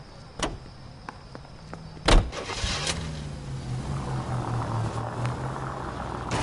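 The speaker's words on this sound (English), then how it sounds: "Nice car, Roy." A car in a PS4 detective game: a door thunks shut, then a steady low engine idle hums beneath faint background ambience, with a couple of softer clicks early on.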